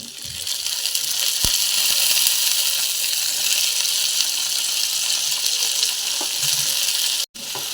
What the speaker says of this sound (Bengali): তো সবগুলো আলু আর বেগুন তেলের মধ্যে আমার দেওয়া হয়ে গেছে।